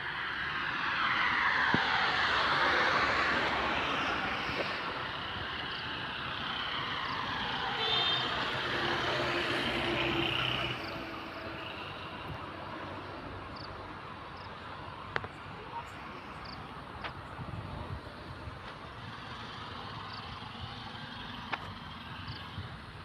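An MSRTC Parivartan bus pulls in at a Maharashtra bus depot, its engine a loud, broad rumble for the first ten seconds before it eases off and settles into a steady idle, with a few sharp clicks and knocks.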